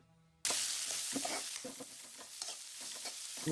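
Onions dropped into a hot pan, bursting into a sudden loud sizzle, then frying steadily with repeated stirring scrapes close by.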